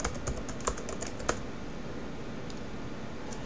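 A quick burst of keystrokes on a computer keyboard typing a search, several sharp close clicks in the first second and a half, then a faint quiet room with a couple of soft taps.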